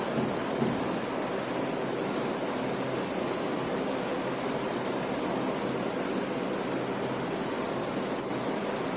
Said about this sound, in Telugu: ఇప్పుడు 2 కప్స్ రవ్వను 4 కప్స్ వాటర్ పోస్తున్నానండి